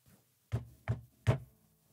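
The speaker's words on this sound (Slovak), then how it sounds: "Ráno ho miesto budíka prebudilo silné búchanie na dvere." Three loud, heavy knocks land on a door at an even pace, each a sharp, close thud, after a fainter first tap.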